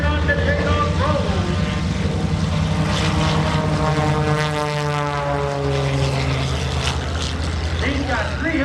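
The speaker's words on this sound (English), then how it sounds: "375 horsepower in that airplane" A 375-horsepower propeller airplane roars along on its takeoff roll at an airshow, with a loud steady engine drone and a sweeping pitch shift under continuous announcer commentary.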